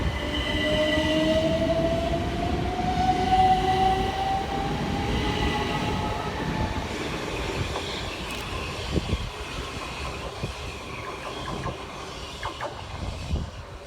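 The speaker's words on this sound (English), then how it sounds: "we see the departure of 377425, working 1454 Southern service from Reigate through to London Victoria" Southern class 377 electric unit 377425 pulls out of Purley station, a steady rumbling rail roar with a rising motor whine, then fading wheel clatter and clicks as it draws away.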